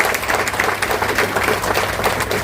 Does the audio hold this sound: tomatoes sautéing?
no